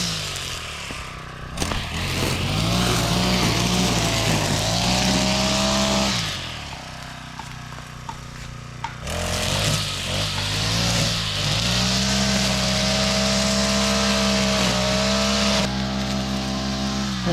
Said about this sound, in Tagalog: Nag-grass cutter tayo ngayon.